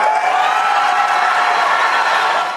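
A crowd at a Republican presidential debate reacts with a steady, loud wash of cheers and applause that holds for a couple of seconds and then begins to fade.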